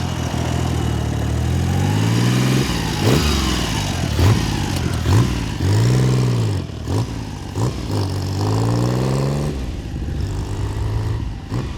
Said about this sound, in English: Here's this one idle. This is idle on this thing.